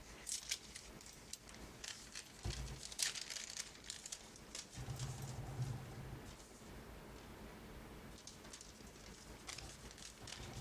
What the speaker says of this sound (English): some of that baking paper that makes the crinkly sound